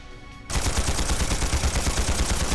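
Trails Through Daybreak battle scene where sudden sustained automatic gunfire starts abruptly after a quiet moment, a rapid, even stream of loud shots continuing without pause.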